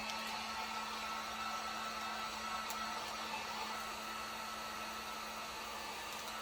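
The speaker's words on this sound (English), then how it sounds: "with this shrink wrap, with the heat gun, once you start shrinking it" A heat gun blows steadily while shrinking shrink wrap, a constant, fairly faint whirring hiss with a low hum and no pauses.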